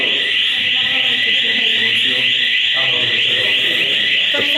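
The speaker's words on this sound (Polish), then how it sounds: "Alarm antyterrorystyczny się włączył." A loud, steady electronic anti-terrorism alarm sounds continuously throughout, with people talking underneath it.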